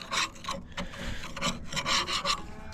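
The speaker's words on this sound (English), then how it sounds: "scraping" Close, rough scraping of dried-on dirt and debris from a broken hay tedder, a series of rasping strokes in an irregular rhythm with no talking.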